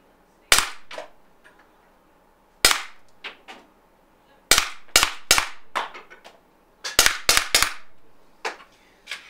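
RAM Combat Pistol firing rubber balls at a magazine, a series of about twelve sharp close cracks in irregular bursts, some with quick rebound clatter, with quiet gaps between.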